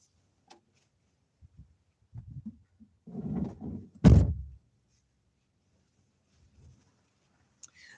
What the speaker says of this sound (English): I'm going to step away for a second and close the door